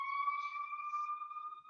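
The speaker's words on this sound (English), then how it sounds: "I listened to that siren and I totally lost my thought" A steady electronic siren tone holds a near-constant pitch, fairly faint and unbroken, with no speech over it.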